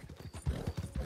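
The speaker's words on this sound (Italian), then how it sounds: "il mio cavallo non ce la fa più" Horse hooves clip-clopping in the video game Red Dead Redemption 2, a steady rhythmic trot of low, dull thuds heard close and moderately loud, with no talk over it.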